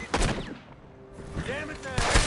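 Gunfire in the Red Dead Redemption 2 video game comes as a few sharp, loud shots, one at the start and another burst near the end, while voices speak in between.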